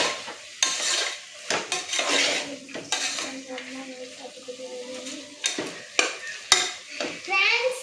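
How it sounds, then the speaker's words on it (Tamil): A spoon scrapes and clinks against a pan while a carrot and beans mixture is stirred and sizzles softly; close, irregular stirring strokes and metal knocks with a few brief pauses. "போட்டுட்டு நல்லா மிக்ஸ் பண்ணிக்கோங்க."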